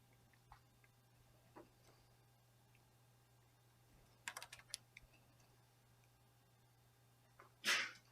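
A single sharp sneeze bursts out near the end of a quiet classroom algebra lesson, preceded by faint scattered clicks and ticks over a steady low hum.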